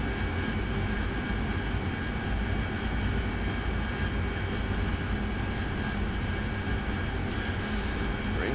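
Constant loud roar of an AV-8B Harrier jet engine in the DCS flight simulator, steady and unbroken throughout with a broad rumbling whine.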